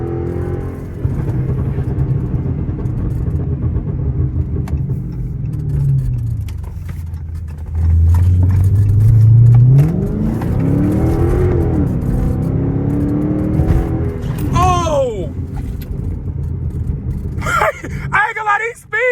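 A Chrysler 300 engine idles and then revs hard from inside the car, its exhaust rumbling with scattered pops as it winds down, while someone talks over it.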